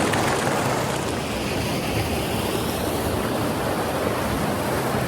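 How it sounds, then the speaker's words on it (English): Tiger Jaw Falls roars as a loud, steady rush of falling water heard from right inside the waterfall, dense and unbroken with no voices. "Standing in a waterfall now."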